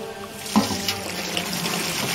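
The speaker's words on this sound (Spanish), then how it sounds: "Y echar el agua aquí dentro." Water poured from a bucket into a container in a Spanish-language point-and-click adventure game, a steady liquid splash with a brief louder slosh near the start, heard alone without talk.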